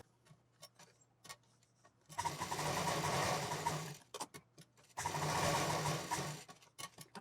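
A sewing machine double-stitches a straight seam on a single piece of leftover cloth for a small pouch, running in two steady whirring stretches of a few seconds each, with light clicks of handling in the pauses.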